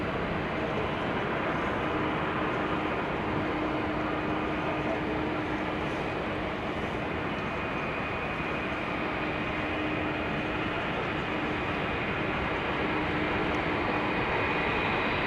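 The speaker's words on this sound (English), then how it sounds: "I think this is KLM flight 879 to Bangalore. 777-200 coming to our runway." A KLM Boeing 777-200 on approach to the runway at Amsterdam Schiphol Airport gives a steady, broad, distant jet roar that holds constant throughout, with no talk.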